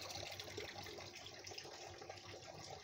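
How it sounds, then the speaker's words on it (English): Water runs in a steady, faint trickle through a Halloween waterfall decoration set up outside a house, with no talk over it. "this is all set up as a waterfall"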